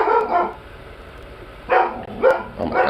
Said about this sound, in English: Oh my god, dog.